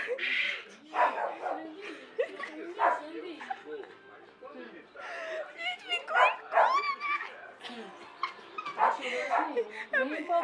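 A dog barks and whimpers again and again in high yips and whines, close and fairly loud, mixed with people talking throughout.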